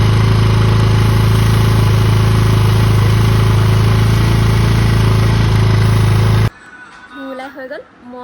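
A motorcycle engine idles loud and steady at close range, then cuts off abruptly near the end, leaving a few faint, scattered sounds.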